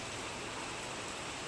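Dense, steady rain falls on someone standing outdoors testing a raincoat, a continuous close wash of hiss with no breaks or other sounds.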